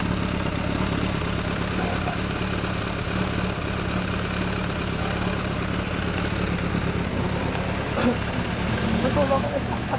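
A Suzuki Inazuma 400 motorcycle fitted with a WR'S silencer idles with a steady, moderately loud rumble, while people talk nearby.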